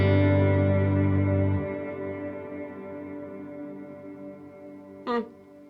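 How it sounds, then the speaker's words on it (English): A sustained guitar chord rings out through a Wampler Ethereal pedal and decays slowly into a long, washy reverb tail, then a brief scraped pick noise near the end. "I could just quickly check what the reverb sounds like on its own"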